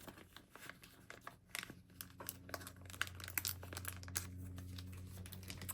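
Soft, close crinkling and rustling of paper banknotes being folded for cash envelopes, in quick irregular bursts over a faint background hum, with no talking.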